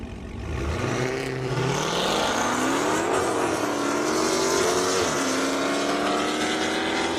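A purple Hellcat driven fast down an airstrip at a speed event, its engine roaring loud and close with a steadily climbing pitch as it accelerates hard for several seconds.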